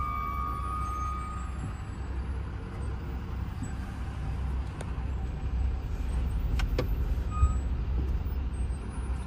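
Road traffic creeping slowly through a jam, with a continuous low engine rumble, a truck's reversing beeps and a brief hiss of air brakes heard from close by.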